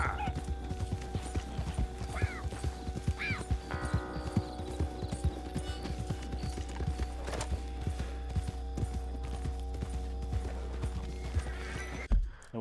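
A horse in the Red Dead Redemption 2 video game trots and gallops with steady hoof clip-clops, neighing a couple of times over a constant low rumble, with a brief sound at the very end.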